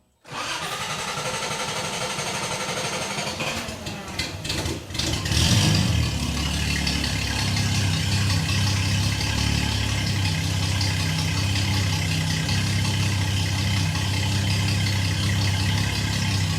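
A vintage car engine cranks over for a few seconds, catches and starts, then settles into a steady, loud idle that runs on alone to the end.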